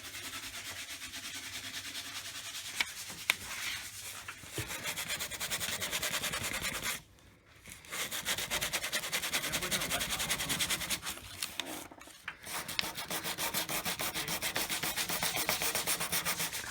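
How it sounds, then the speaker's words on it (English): Sandpaper rubs steadily over a car's painted body panel to strip off a sticker, a continuous close scratchy rasp that runs throughout with two brief pauses. "I'm using sandpaper to get a sticker off"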